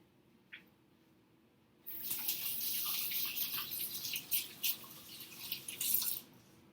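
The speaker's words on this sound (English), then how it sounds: "I just have to wash my hands real quick." Hands being washed under a running tap at a sink, heard as a brief click followed by a steady close splashing stream of water with small irregular spatters over several seconds, no talking.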